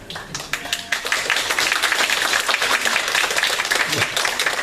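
A church congregation applauds during a Sunday worship service as a child stands to be recognized, a dense, steady wash of many hands clapping that holds at an even level throughout.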